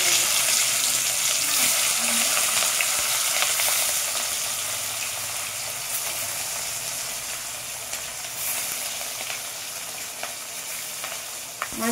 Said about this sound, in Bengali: এবার আমি মাছগুলো এক এক করে দিয়ে ভেজে নেব।